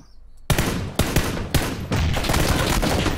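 Gunfire in PlayerUnknown's Battlegrounds: four sharp, loud shots at roughly half-second intervals, each cutting into a dense sustained roar of continuous shooting and game noise, with no talking.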